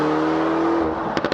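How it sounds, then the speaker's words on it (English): A Lamborghini Urus S SUV revs loudly with a steady exhaust drone, then the note drops away into a few sharp, crackling pops on overrun near the end, close and alone. "The car has overrun, it burbles, it goes pop"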